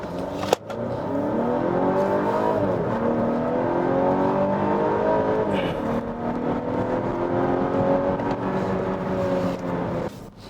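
A Volvo S90 B6 AWD sedan pulls away from a standstill in manual shift mode. The engine note climbs strongly and steadily, dropping at each upshift before rising again, with no talking.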